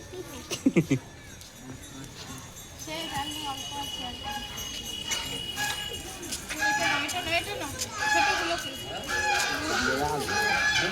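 Chickens, ducks and geese clucking and calling among a noisy crowd of farm animals at an animal park in Nabadwip, with people talking and a voice throughout.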